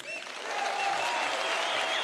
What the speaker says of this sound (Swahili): Makofi kwa mheshimiwa